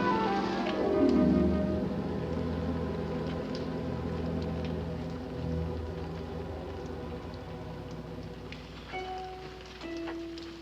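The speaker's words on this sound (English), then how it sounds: "Been raining 5 days straight now, Timmy." Steady rain patters in a dense, continuous wash, with music playing over it throughout.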